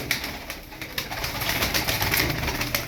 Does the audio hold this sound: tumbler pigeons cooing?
yes